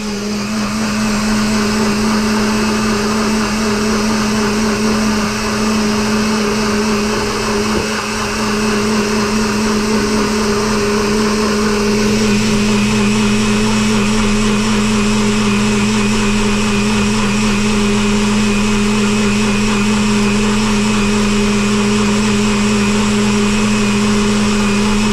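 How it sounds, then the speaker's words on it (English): A NutriBullet blender whirs loudly and continuously for about 25 seconds, blending a Reese's protein shake in its cup, a steady high motor drone whose pitch shifts slightly midway. "and we'll blend it"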